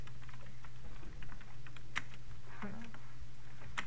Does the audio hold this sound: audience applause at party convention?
no